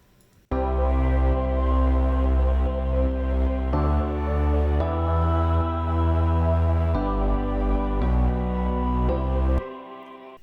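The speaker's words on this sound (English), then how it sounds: "Adding the bass." A pop chorus of sidechained synths with a deep bass line added underneath, dense and loud, with chords changing every couple of seconds before cutting off near the end.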